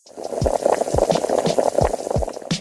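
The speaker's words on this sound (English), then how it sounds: "Once the acidic solution is boiling" An acidic pickling solution boils on a stove, a close, steady bubbling roar with repeated low pops and gurgles, and no voices.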